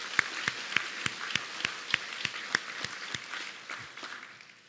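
A church congregation clapping in unison, a regular rhythmic beat of sharp, roomy claps at a steady tempo, fading into scattered softer claps toward the end, moderately distant.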